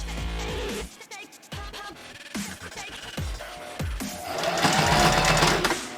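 A sewing machine stitches back and forth over a tag on a denim scrunchie, with short bursts of whirring and clicking stops between runs, ending in a longer steady stitch.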